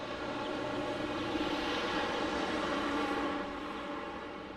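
Air France Boeing 777-200 airliner, flight 378 from Paris, at Detroit Metro Wayne airport: a steady broadband jet roar holding loud for several seconds, then easing slightly.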